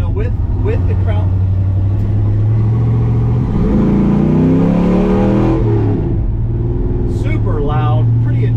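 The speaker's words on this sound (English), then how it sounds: "It actually sounds like there's a pretty decent exhaust leak." An old 1955 Chevy truck with a rough ride and an exhaust leak drones loudly from inside the cab, its engine note steady, then climbing and swelling as it revs mid-way before settling back, with occasional voices over it.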